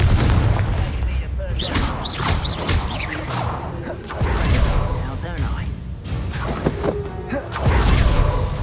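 Spell explosions from Hogwarts Legacy, with a Confringo blast among them: repeated booming bursts and whooshes in a busy game mix, with a voice casting spells between them.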